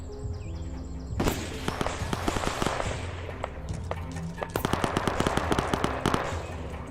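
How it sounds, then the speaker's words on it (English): Gunshots fired toward a roof in a video game, a rapid series of sharp, loud cracks in bursts over steady background noise, with a voice talking at times. "He fired 3 shots towards the roof."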